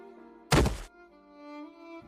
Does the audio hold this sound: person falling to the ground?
yes